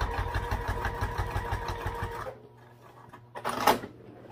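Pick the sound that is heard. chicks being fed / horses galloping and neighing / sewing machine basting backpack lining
sewing machine basting backpack lining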